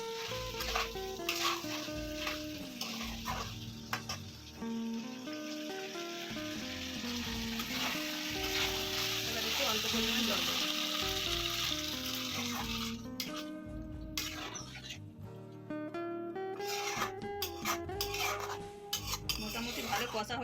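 Chicken with fresh coriander leaves and chili powder sizzles steadily as it is slowly sautéed in a pan, with occasional scraping and clinks of a utensil against the pot, close and continuous throughout.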